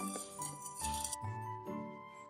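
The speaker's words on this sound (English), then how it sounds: "Mix it till the powder and sugar melts." A spoon stirs Tang powder and sugar into water, clinking against the glass in several quick close taps and scrapes spread over a couple of seconds with no speech.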